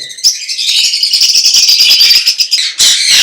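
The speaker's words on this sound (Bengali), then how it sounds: "পাইনাপেল কোনর এবং green cheek কোনর breeding pair, DNA card সহ" Pineapple conure and green cheek conure parrots at a bird market give loud, close, continuous shrill squawks and chirps, with a brief break near the end before the calling resumes.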